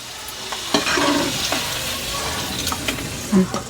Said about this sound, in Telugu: ఇట్లా ఇట్లా మంచిగా ఫ్రై చేసుకోండి